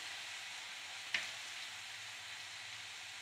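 Vegetables fry in a pan with chilli powder, amchur powder and spices added, a faint steady sizzle with one brief sharp clink of a utensil partway through.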